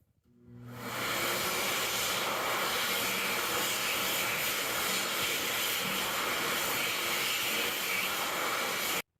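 Hand dryer with a 0.8 nozzle and a pre-filter clog fault roars steadily in a restroom, starting up about a second in and blowing loud, broad and unbroken until it cuts off abruptly at the end.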